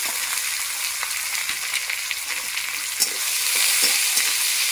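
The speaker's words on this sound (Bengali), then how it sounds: "এবার পেঁয়াজগুলো ভালো করে ভেজে নেব।" Finely chopped onions fry in a pan with a little garlic, giving a steady, close hiss and sizzle with faint scrapes and stirring knocks, no voices.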